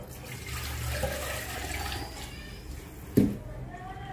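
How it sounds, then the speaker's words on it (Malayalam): Water poured from a vessel into a mixer jar of ground coconut paste while making fish curry, a continuous pouring trickle with a brief clunk near the end, heard alone at close range. "ഇനി നമുക്ക് ഇതിലേക്ക് ആവശ്യത്തിനുള്ള വെള്ളം ചേർക്കാം."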